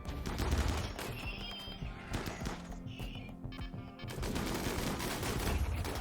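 Dense bursts of automatic gunfire from turrets in the video game Rimworld rattle on almost without pause, loud and close, with rapid overlapping shots and a few brief high whines in the mix.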